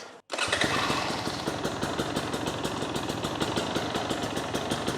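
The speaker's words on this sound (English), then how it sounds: "See what she sounds like." A 2024 Husqvarna TE250 TBI dirt bike fitted with an FMF Turbine Core 2.1 exhaust idles in a garage, starting after a brief gap into a steady, loud, rapid putter with close, regular exhaust pulses.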